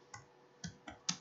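Faint, sparse keystrokes on a computer keyboard while a DNS lookup command is entered on Cisco network equipment, four or five separate clicks with pauses between them.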